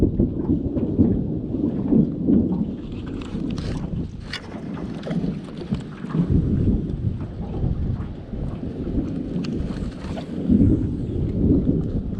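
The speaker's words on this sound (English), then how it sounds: "You can probably hear the thunder rolling." Thunder rolls low and heavy on an overnight fishing trip by the water before a storm, long rumbling swells rising and fading beneath steady wind buffeting the microphone.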